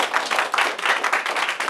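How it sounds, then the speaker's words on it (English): An audience in a small performance space claps and applauds, a dense, steady burst of hand claps that lasts under two seconds. "round of applause for Rod and Terry"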